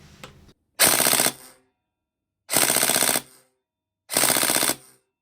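Three short, loud full-auto bursts come from an airsoft Tokyo Marui Mk18 NGRS with a Titan unit firing about 16 rounds per second, each burst a rapid buzzing rattle separated by brief silences.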